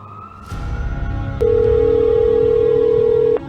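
A telephone rings in a room: a short sound, then a sharp click and a loud steady electronic tone that holds for about two seconds before cutting off.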